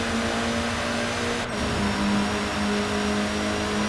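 Honda Civic Si Turbo in Forza Horizon 4 holding a high, steady engine drone at speed, a continuous near tone with a brief shift midway as it keeps pulling.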